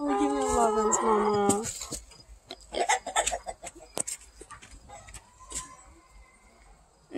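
An Easter Egger hen clucks softly in short irregular bursts, close and fairly quiet, after a stretch of speech at the start; people talk around the bird.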